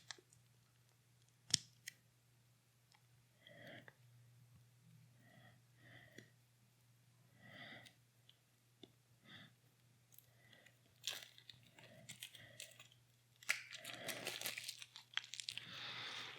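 A shrink-wrapped card pack from a board game expansion being opened along its seam: faint crinkles and snips at first, then louder plastic tearing and crumpling up close, with no voices.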